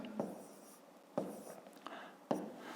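Pen writing numbers by hand in a notebook during a fifth-grade maths exercise: soft, close scratching strokes with three sharper taps as the pen touches down, quiet and alone.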